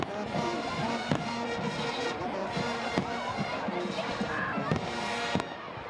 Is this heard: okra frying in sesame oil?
no